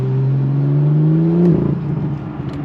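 A BMW M2 LCI with 370 horsepower, a manual gearbox and an emptied muffler revs loudly up close, its engine note climbing steadily before dropping into a rougher, crackling burble.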